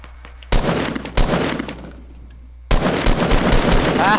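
Loud Fortnite gunfire close by: a short burst, a single sharp shot, then after a pause a longer rapid automatic volley.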